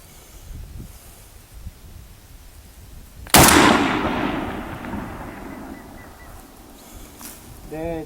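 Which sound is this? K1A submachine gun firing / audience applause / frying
K1A submachine gun firing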